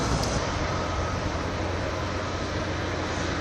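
A port crane shifts and dumps debris into a truck at Port Est on Réunion, a steady broad mechanical rumble and hiss filling the scene without any voices.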